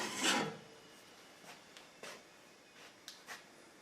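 One long rasping sanding stroke on a sawn facet surface in an Accu Facet jig, then several shorter scrapes at irregular intervals, close and fairly quiet, with no talking.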